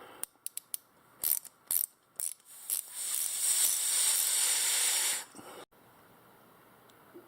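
Metal nut being tightened down on a screw: a few sharp clicks, then a sustained loud grinding, ratcheting mechanical sound for about two seconds that stops abruptly, close up with no talk.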